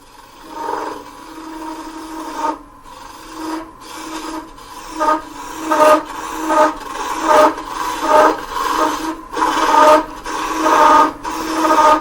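A bowl gouge makes a plunge cut into a spinning wooden top on a lathe, giving a loud, rhythmic scraping and rasping in repeated close passes, with no talk.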